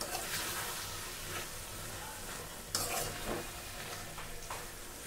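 Potato and spinach curry being stirred in a hot pan, a steady close sizzle broken by scraping spoon strokes, with one sharper clatter near the middle.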